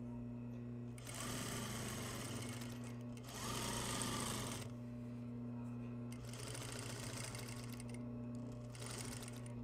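An industrial sewing machine running a plain seam with back tacks, rapid mechanical chatter in several bursts over a constant motor hum, close and moderately quiet.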